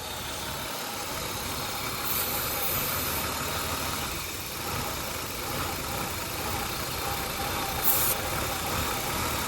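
Ford Taurus engine idling roughly after a new idle air control valve was fitted, a steady mid-pitched running drone with slight surges and dips in level over the whole stretch, no one talking.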